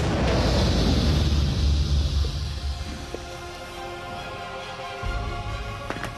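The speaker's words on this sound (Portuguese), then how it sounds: "Funcionou como um canhão deve funcionar." A single gunpowder cannon shot bursts with a loud boom, then decays into a long rumbling tail and quieter crackling debris sounds.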